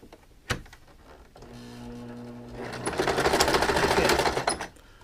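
A sewing machine zigzag-stitches around a pipe cleaner while making a fascinator, a short click and then a rapid rising run of stitching that swells and stops, close with no talking.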